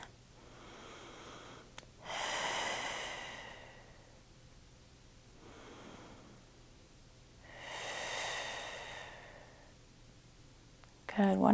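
Slow, deep breaths during a Pilates reformer workout, with two long airy exhales several seconds apart, close and soft in a quiet room.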